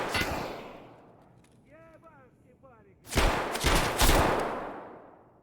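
Gunfire in Escape from Tarkov, where a Saiga 12-gauge shotgun is being tested: a loud, close burst of shots opens the moment, then after a lull a heavier cluster of booming reports follows.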